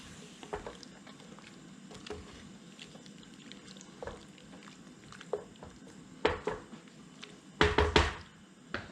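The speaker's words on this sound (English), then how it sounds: "Give it a good stir." A pot of Yemeni saltah with vegetable broth being stirred over raised heat, soft liquid sloshing and scraping in irregular bursts, growing louder with a few sharp clatters near the end.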